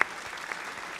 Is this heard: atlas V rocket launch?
no